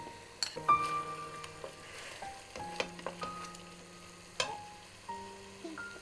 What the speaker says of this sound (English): That's cooking away nicely, and I shall add the tomato puree as well.